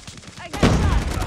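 A burst of gunfire from Call of Duty: Mobile erupts midway, a loud, close volley of shots following a quieter lead-in.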